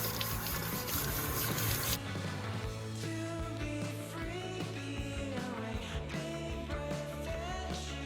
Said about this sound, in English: So you get some running water